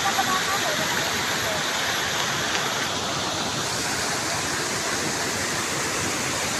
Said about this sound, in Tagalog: Napakaingay talaga ng tubig ng Aliwagwag Falls